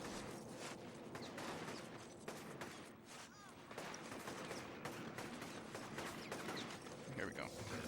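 Gunfire aimed at the player in the video game Infamous, rapid bursts of shots and sharp cracks scattered through a busy, noisy mix, at a low level with someone talking over it.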